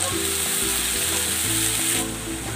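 Soy sauce poured onto pork sizzling in a frying pan sets off a loud, dense crackling hiss, close by and steady, over a low background hum, then settling a little softer near the end.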